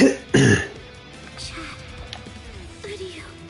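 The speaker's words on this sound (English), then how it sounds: "Sorry for the coughing if anyone's watching." A person clears their throat loudly and coughs at the start, followed by quieter game sounds from Bleach: Rebirth of Souls in the background.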